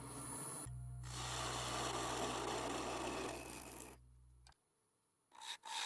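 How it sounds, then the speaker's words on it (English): A woodturning tool scrapes a cedar vase spinning on a lathe, a steady loud rasping that runs for about three seconds with a low motor hum beneath, then the scraping stops and the lathe winds down. "I'm using the bottom edge of this tool, and I'm just scraping that"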